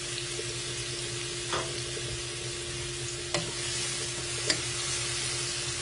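Sliced mushrooms sauté in olive oil with a steady, moderate sizzle, broken by three sharp spoon-against-pan knocks as they are stirred, close by and without talk.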